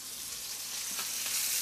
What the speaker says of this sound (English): I hear that sizzle back there